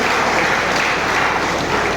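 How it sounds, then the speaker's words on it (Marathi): An audience at a Ratnagiri–Sindhudurg election rally applauds after a speech, a loud, steady burst of clapping filling the whole moment with no voices on top. "हा टाळ्या कायद्यासाठी होत्या"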